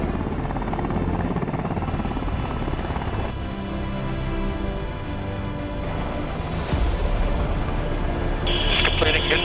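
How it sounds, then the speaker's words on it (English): A Sikorsky S-70 Black Hawk helicopter, optionally piloted, lifting off autonomously, its rotor and turbine roar steady and close, with radio-style voices talking over it and a brief high whine near the end. "Autonomous takeoff."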